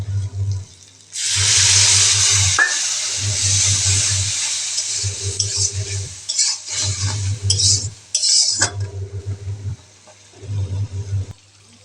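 A spoon scrapes and stirs spice masala in a pan for Bengali fish curry, heard as a series of roughly six rhythmic, close stirring bursts over a low steady hum.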